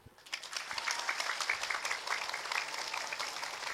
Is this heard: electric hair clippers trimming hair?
no